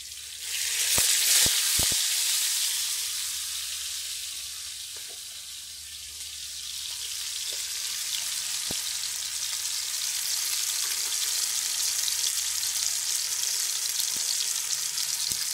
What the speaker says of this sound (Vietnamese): Mình hấp rồi mình chiên lại